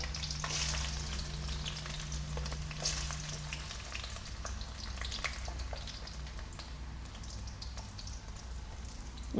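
Garlic and onion frying in hot oil in a pan, a steady dense sizzle with scattered crackles and pops running throughout, close and fairly loud with no talking.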